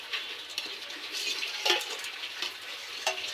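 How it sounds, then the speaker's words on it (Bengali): Rohu fish curry gravy bubbling in a pot, a soft steady simmer with faint crackles and occasional stirring clinks, close by and moderately quiet with no talking. "ঝোল ফুটছে, দেখতেই পাচ্ছ"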